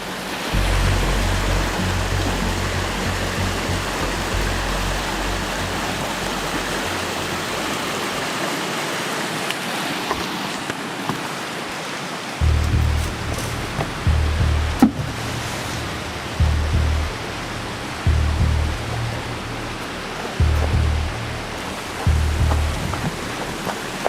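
A river flows steadily through Payson Canyon, Utah, a continuous broadband rush of water, near and fairly loud, with low rumbling surges pulsing periodically through the second half.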